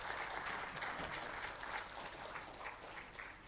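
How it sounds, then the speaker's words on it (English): Audience at a quiz event in Manipur applauding, a dense continuous wash of clapping from a crowd, heard faintly and steadily throughout. "can we have a bigger round of applause for her?"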